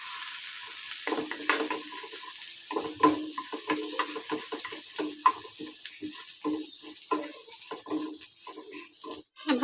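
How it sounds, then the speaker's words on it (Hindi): Cumin seeds fry in melted butter in a hot pan, a continuous close sizzle broken by scraping stirring strokes and small spatters that carry on throughout. "अब हम डालेंगे मक्खन, इसे मेल्ट करेंगे। अंदर डालेंगे 1 चम्मच ज़ीरा,"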